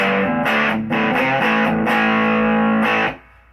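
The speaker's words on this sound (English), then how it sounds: "It's got that ratty sound in solid state distortion" A heavily distorted electric guitar through a solid-state amp plays a sustained riff with a gritty, buzzy tone and a reverb tail as it cuts off near the end.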